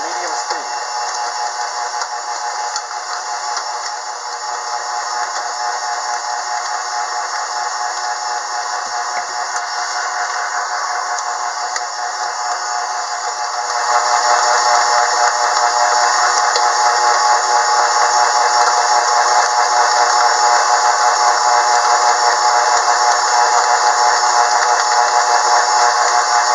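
A steady electric mixer whirs loud and continuous at medium speed, beating strawberry cake batter, its drone growing slightly louder partway through and running unbroken with no talk.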